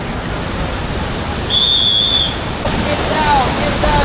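Rushing water of a whitewater river with small 1- and 2-meter waterfalls heard from a raft, a steady loud broadband roar and hiss throughout, with a brief whistle-like tone partway through.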